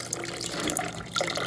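Water is drizzled slowly over brewed coffee grounds, making a soft, close trickle and splash that swells and eases in uneven bursts.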